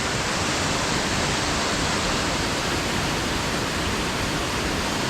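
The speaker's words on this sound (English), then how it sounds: "It's the nameless waterfall." A nameless waterfall on the Bowron canoe route pours in a steady, full-bodied roar, a dense unbroken hiss of falling water with no voices.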